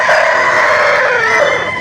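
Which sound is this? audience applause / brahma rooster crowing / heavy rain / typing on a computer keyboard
brahma rooster crowing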